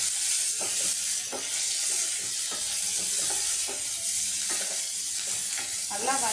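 Onion with crushed ginger and garlic sautés in a hot pan, a steady close sizzle broken by regular scraping strokes of a spoon stirring.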